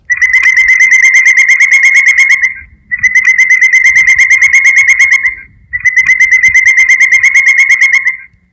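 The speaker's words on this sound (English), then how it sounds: "Woodpecker distress call." A woodpecker distress call blasted loud from an electronic game caller in the woods, three long shrill whistling bursts with short pauses between them, close and dominating.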